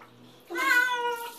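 A cat yowls loudly for about a second while being bathed, a drawn-out harmonic meow rising out of quiet water sounds.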